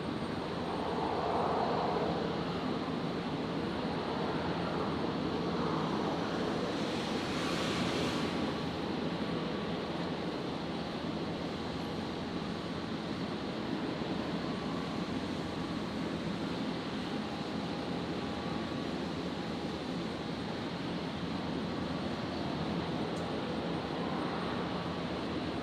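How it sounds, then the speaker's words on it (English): A Jetstar A320 arriving from Sydney touches down on runway 19 left at Brisbane International Airport at night, a steady distant roar of jet engines that stays constant, with a brief louder rush partway through. "So Jetstar 824 here, about to touch down on 19 left. The 320 arriving from Sydney."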